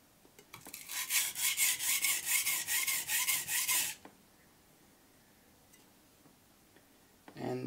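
The heel of an Itsu Doi gyuto knife is stroked on a Shapton Pro whetstone in a rapid run of about a dozen rhythmic rasping passes, close and crisp, followed by near silence and a brief scrape at the end.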